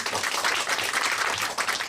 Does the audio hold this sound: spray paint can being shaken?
no